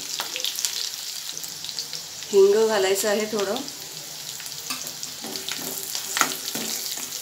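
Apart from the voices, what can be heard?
tempering sizzling in hot oil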